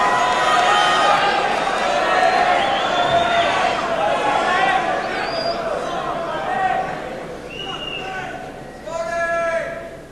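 A snooker audience in a large auditorium murmurs and chatters in a broad, steady crowd hum that slowly settles, with voices speaking over it near the end.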